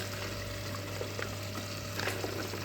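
Dried okra pieces dropped into a cooking pot for a meat and chickpea stew, with a steady sizzle and bubbling all the way through and a few soft stirring clatters. No one speaks.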